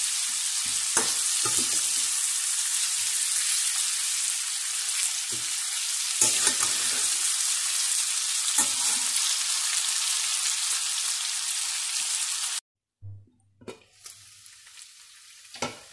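Chicken varuval frying on medium heat makes a dense, steady sizzle with occasional stirring scrapes, then cuts out abruptly near the end, leaving only a few quiet knocks and clinks.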